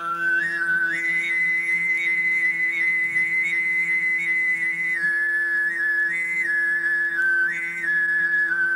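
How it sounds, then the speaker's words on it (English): Tuvan throat singing: a steady low drone with a bright, whistle-like overtone melody gliding above it, sustained without pause. "As they're singing, there's a kind of a whistle that develops on top of the singing."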